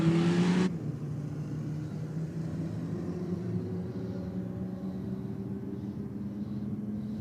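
A Ford Falcon XR8 pulls away down a drag strip at a night race meet, its engine giving a steady, loud rumbling drone that holds on after a sharp cut at the start, with no talking.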